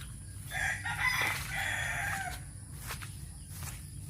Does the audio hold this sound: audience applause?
no